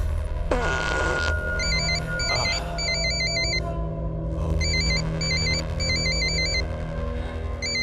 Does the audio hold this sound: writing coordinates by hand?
no